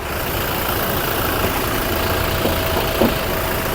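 A 2018 Toyota Revo 2.4E pickup with an automatic gearbox and a 2.4-litre diesel engine idles nearby: a steady, even rumble with faint ticking, alone and without talk.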